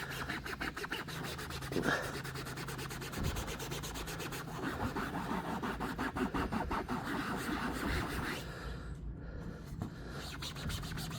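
A Scotch-Brite pad rubs an Aircat 335 impact wrench part during a light-pressure clean-up, producing a continuous close scratchy scrubbing with fast rhythmic strokes, steady throughout with a brief pause near the end.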